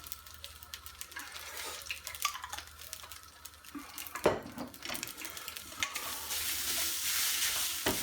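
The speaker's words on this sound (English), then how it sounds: "And just fry it up" Egg fried rice frying and being stirred in a pan, a steady sizzle broken by scraping and clattering stir strokes, close and alone, with one sharper knock midway and the frying growing louder toward the end.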